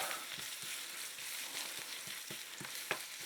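Potatoes frying in butter in a pan give a steady close sizzle, with a few soft stirring knocks and scrapes of a utensil and one sharper click near the end.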